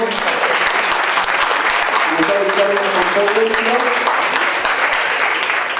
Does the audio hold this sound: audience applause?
yes